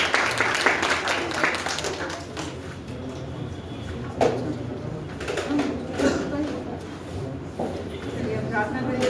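Broad, steady clapping from a congregation at a Hindi church service, welcoming a preacher. It stays dense throughout, with voices mixed in.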